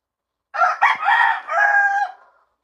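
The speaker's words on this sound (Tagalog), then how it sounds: "Panabong to na manok." A fighting rooster (gamecock) crows once, loud and close, a strained cock-a-doodle-doo lasting about a second and a half, then silence.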